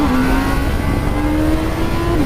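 A 2019 Honda CB1000R with a powerful straight-four engine revs loudly up close, a strong sustained engine note holding through a brief burst with no talk over it.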